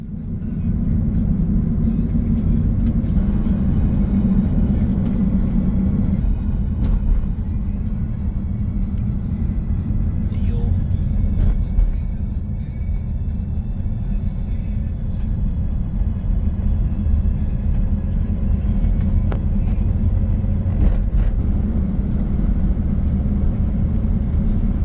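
A car drives across a green-painted bridge in Portland, Oregon, giving a steady low engine and road rumble with tire noise that holds evenly throughout, close and continuous, with no one talking.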